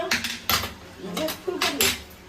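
Halwa being stirred in a pan at home, with a utensil scraping and clinking against the metal in short repeated strokes, while voices talk over it.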